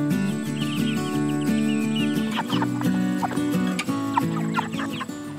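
Cornish Cross broiler meat chickens at about eight weeks old cluck and chatter continuously in a dense, close flock, layered over a steady background hum.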